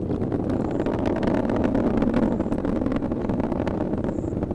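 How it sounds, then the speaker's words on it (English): A SpaceX Falcon 9 rocket in supersonic flight near maximum dynamic pressure, heard as a continuous, heavy low rumble that stays steady and fairly loud throughout. "Confirmation that the Falcon 9 is supersonic"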